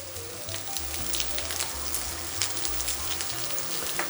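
Hash browns fry in a little oil on a griddle, a close, dense crackling sizzle full of small pops like rain on a hard surface, holding steady and moderately loud without talk.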